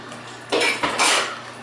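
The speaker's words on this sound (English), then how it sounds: "actually washing dishes" Dishes, pots and cutlery being washed, with a few clattering clinks and scrapes in two short bursts against a quiet room.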